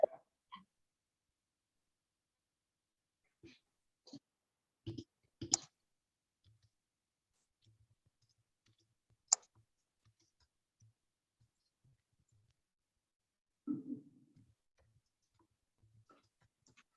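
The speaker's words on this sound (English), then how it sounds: "I'm typing on the chat on Zoom." Computer keyboard typing during a Zoom chat: sparse, scattered key clicks in short irregular bursts separated by long quiet gaps, faint and close, with a few soft murmurs in between.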